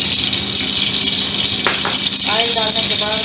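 Oil sizzling in a hot kadhai (wok) while heating for chicken vegetable spaghetti, a loud steady hiss filling the whole clip with faint clinks near the end.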